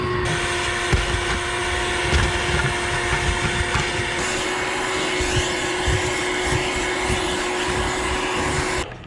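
A vacuum cleaner runs continuously and loudly, sucking up trash from the interior of a 1980 Monte Carlo, a steady whining drone with a slight shift in pitch partway through, and no talk.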